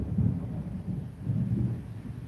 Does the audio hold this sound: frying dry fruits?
no